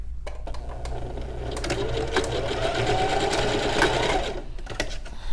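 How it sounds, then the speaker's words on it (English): A sewing machine runs a steady, continuous burst of stitching along the bottom seam of a small fabric pouch, close and fairly loud, with a few clicks at the start and end. "you're just going to sew from here to here"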